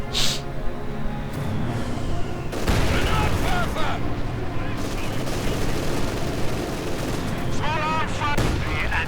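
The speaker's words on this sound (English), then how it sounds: "More heavy mortar barrages." Heavy mortar barrages in the WWII strategy game Company of Heroes 2, a dense run of loud booming explosions and crackling gunfire layered with battle noise, with a sharp burst near the start and more impacts through the middle and end.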